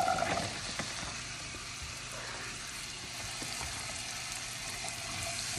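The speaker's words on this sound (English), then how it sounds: "Now I'm gonna go ahead and add the mirepoix and garlic." Mirepoix and garlic sizzle in butter alongside sausage in a soup pot for black-eyed pea soup, a steady broadband frying hiss running throughout, with an early clank at the start.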